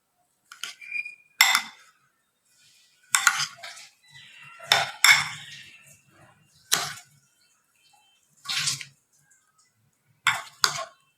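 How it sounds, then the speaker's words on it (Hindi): A spoon mixing fruit chaat in a bowl, giving a series of sharp metallic clinks and scrapes in irregular bursts, close and clear with quiet pauses between strokes. "और देखें किस तरह मिक्स करें, ये देखें ऐसे नहीं मिलाते।"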